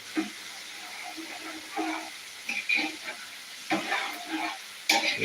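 Spatula scraping and stirring fried rice in a hot pan, with intermittent bursts of sizzling and clattering strokes at irregular intervals, close and moderately quiet.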